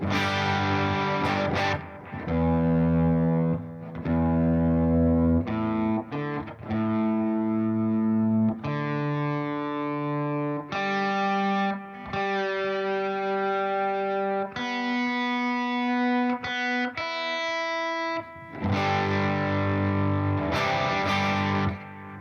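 A distorted electric guitar plays a melodic solo line with sustained, singing notes and short pauses, loud and up close, with no voices.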